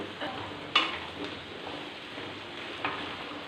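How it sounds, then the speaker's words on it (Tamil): Vegetables, including raw banana, sauté in oil in a pan with a soft continuous sizzle, broken by a few sharp scrapes and clinks of a spoon stirring against the metal. "இந்த காயை நல்லா எண்ணெயில் இப்படி வணக்கி விட்டுட்டு இதுக்கு தேவையான உப்பு, மஞ்சள் தூள் மட்டும் சேர்த்துக்கலாம்."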